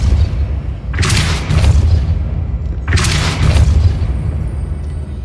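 Depulso spell cast in Hogwarts Legacy, two loud booming blasts about two seconds apart, each with a rushing whoosh trailing off, over a low rumbling background.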